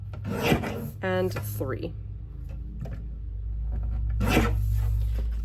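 A strip of paper being trimmed at a page kit crafting workshop, with short rasping cuts and rubbing scrapes up close, mixed with someone speaking.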